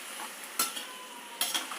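A vegetable seasoned with salt and turmeric sautés quietly in a pan, a soft steady sizzle broken by two brief scraping stirs of a spoon.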